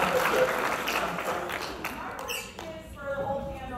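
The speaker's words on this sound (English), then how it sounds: "Give her a round of applause." Applause from an audience at a women's water polo panel event, steady clapping with crowd noise and some voices over it, fading slightly midway then continuing.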